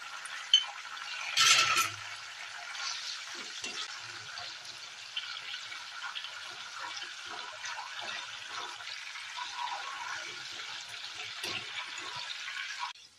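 Salt water is poured into hot oil where banana chips are frying, giving a sudden loud splash and hiss that settles into a steady, even crackling sizzle carrying on alone.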